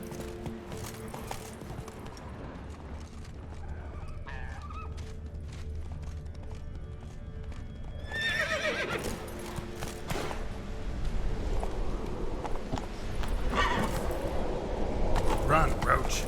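Roach the horse gallops in The Witcher 3, a steady clip-clop of hooves with creaking tack over a continuous game soundscape, growing louder toward the end.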